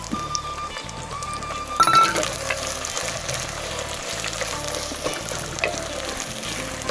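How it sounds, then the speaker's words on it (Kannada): Onions and four green chillies sauté in oil in a pot for veg biryani, a steady close sizzle with a brief clatter of stirring partway through. "ಚೆನ್ನಾಗಿ ಬಾಡಿಸ್ಕೋಬೇಕು"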